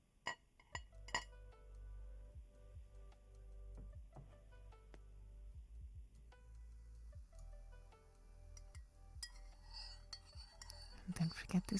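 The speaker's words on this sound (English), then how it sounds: "And don't forget to stir." A spoon clinks and taps against a cup in a quiet ASMR setting, a steady run of light ticking strikes that quicken into a busier flurry near the end.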